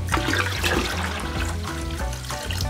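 Water gushes and splashes steadily into a container, about 16 liters being added while mixing an organic compost and inoculant solution, a loud, continuous turbulent pour with no talk.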